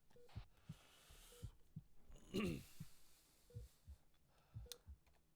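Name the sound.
heartbeat sound effect in the video game Arma 3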